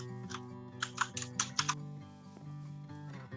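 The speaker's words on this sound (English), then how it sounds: "Whose keyboard is going crazy? That might be mine. I've got a mechanical keyboard." Mechanical computer keyboard clicking in a quick irregular burst of sharp keystrokes, fairly quiet and close, over a faint steady hum, tapering off toward the end.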